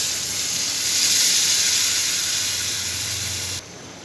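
Milk splashed into a pan of frying vegetables with nigella seeds and green chillies sets off a loud, steady steam hiss that runs for several seconds, then drops off abruptly.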